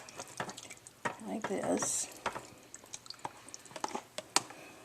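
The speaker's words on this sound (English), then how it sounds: "we do want to strain it and just pour it into a strainer" Ceviche's lime and lemon juice is poured into a strainer: a brief splashy pour and drain, with light clicks, under a person speaking.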